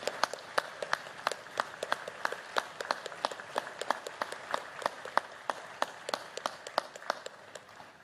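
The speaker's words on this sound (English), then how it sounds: "please join me in recognizing our veterans' national leadership with your applause" Sparse, fairly steady clapping from an audience at a Veterans Day ceremony honoring service members, with individual claps standing out crisply and evenly throughout.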